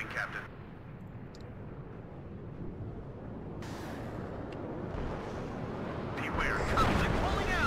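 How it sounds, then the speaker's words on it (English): Low, rumbling explosions in the video game WARNO under a constant roar, with a couple of sharper bursts breaking through, sounding somewhat distant. "I heard something, some explosions."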